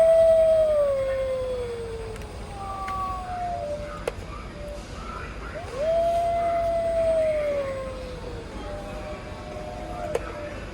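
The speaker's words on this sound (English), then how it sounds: "There's some nice howling there." Halloween skeletal wolf decoration howling, two long electronic howls that rise and slowly fall, the first trailing into quieter howls, loud and close with faint store background behind them.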